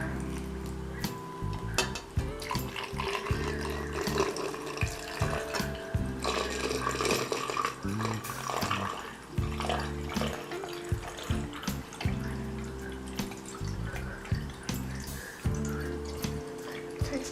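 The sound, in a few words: water poured from pitcher into tall vase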